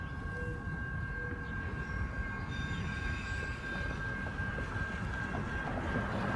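Freight locomotive L507 rolls toward a siding, a steady low rumble of engine and wheels with a sustained high whine throughout, heard at moderate distance with no talking.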